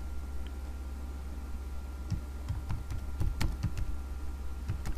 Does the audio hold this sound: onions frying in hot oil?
no